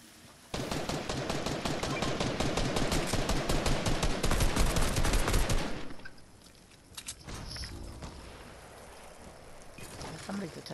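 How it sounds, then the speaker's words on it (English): Rapid automatic gunfire in the Fortnite video game rattles in a dense, continuous burst for about five seconds, then drops away to quieter game ambience with a few scattered clicks and thumps. "Are they shooting at y'all?"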